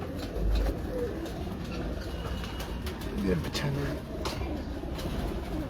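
Breeder pigeons coo softly in a loft, low throaty calls heard now and then beneath someone speaking Hindi nearby, with steady background noise.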